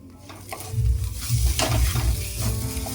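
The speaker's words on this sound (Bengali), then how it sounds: "একটু মশলাটাকে ভালো করে কষিয়ে নেব" Ground spices (turmeric, chili powder, coriander powder) and salt sizzle loudly in a hot pan while a spoon stirs them in a steady rhythm, close-up frying hiss with scraping strokes.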